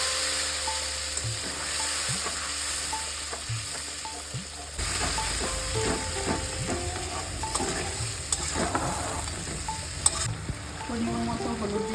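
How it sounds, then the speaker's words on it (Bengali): Spice paste drops into hot oil for a banana-flower curry, bursting into a loud continuous sizzle that jumps up midway and keeps crackling close by with stirring clinks. "যে মশলাটা দেখালাম সেই মশলাটা এবার সরাসরি তেলের মধ্যে এই মশলাটা দিয়ে দেবো।"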